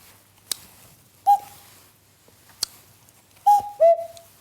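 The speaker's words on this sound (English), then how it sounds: "It does a very good cuckoo." A wooden treen cuckoo whistle blown in short two-note calls, clear and close, with sharp clicks and quiet pauses between the hoots.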